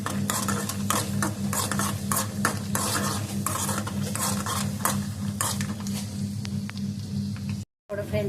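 Cashews and almonds fry in ghee in a pan as payasam is prepared, giving a steady sizzle with repeated scraping and stirring of a spoon against the pan, loud and close throughout.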